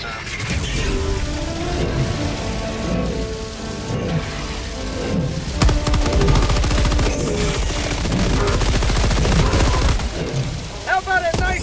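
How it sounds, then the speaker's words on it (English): Orbital laser strike in the game Fight for Prosperity, a sustained loud roaring, crackling barrage with rapid dense bursts that swell around the middle and continue to the end. "Firing orbital laser."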